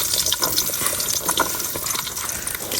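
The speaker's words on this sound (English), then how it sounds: "so we'll add the onions to the pan." Onions hit a hot pan for a Chinese beef curry, raising a loud, dense sizzle with crackling spits that runs continuously at close range.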